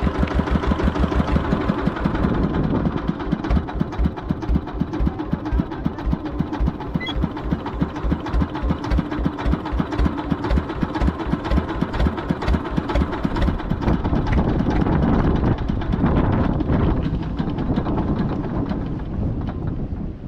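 Inboard engine of a lobster-fishing boat chugging steadily as it approaches the shore, a loud, close, continuous rhythmic thumping with wind buffeting the microphone throughout and no voices.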